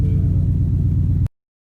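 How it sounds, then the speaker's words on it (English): A 2016 Ford Mustang GT's V8 gives a deep, loud, close rumble for about a second before cutting off abruptly to silence. "I'm going to push the clutch in and start it up."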